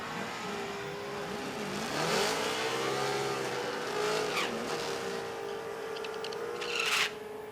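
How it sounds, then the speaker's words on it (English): Ford Mustang drag cars at an NMRA/NMCA event in Chicago, engines revving and roaring down the strip, rising and falling passes with a sharp burst near the end, heard at a distance across the track. "Here's Doug Johnson out of Joliet in the 99 Mustang in the O'Reilly lane, taking on the 98 of Brandon Alsept."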